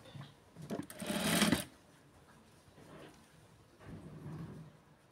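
Sewing machine stitching blouse fabric, a short close burst of rapid rhythmic stitching, then quieter pauses and a second softer run of stitching.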